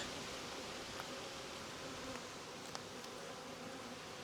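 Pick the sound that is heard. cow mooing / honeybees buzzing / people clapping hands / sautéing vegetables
honeybees buzzing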